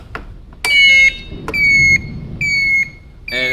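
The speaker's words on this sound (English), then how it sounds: "it looks like we've got a turn signal thing going on here" An E Wheels EW-36 scooter's turn signal beeps in repeated electronic tones, three sustained high pulses with short gaps between them, loud and close, plus a few clicks around them and no talk.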